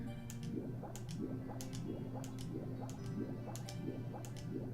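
Super Mario 64 underwater swimming sounds, with rhythmic repeating stroke effects and bubbly plinks about every half second over a steady music bed, with no talking.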